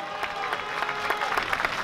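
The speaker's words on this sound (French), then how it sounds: "Applaudissements pour Vivien Delin! Faites du bruit!" A crowd claps for cyclist Vivien Delin, in a red jersey, at an outdoor race during the Hospices de Nuits wine sale festivities; the dense, steady applause lasts under two seconds.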